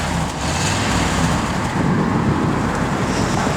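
A 1964 Cadillac De Ville Convertible's engine runs with a steady, loud, broadband roar throughout, heard close by with no talking.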